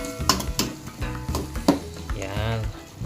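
Vegetables being stirred in a hot pan for a home-style Filipino vegetable dish, with a soft sizzle under repeated clinks and scrapes of a utensil against the pan, close and fairly quiet, with no talking.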